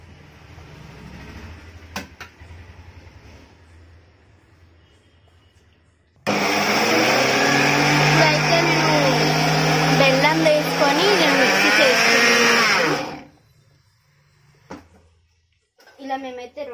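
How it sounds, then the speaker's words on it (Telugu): A kitchen mixer grinder whirring loudly for several seconds as it grinds sesame seeds with grated jaggery, starting abruptly and stopping cleanly, with quieter moments and brief talk around it. "ఇలా మేమైతే 2 సార్లు మిక్సీ పట్టేసాము"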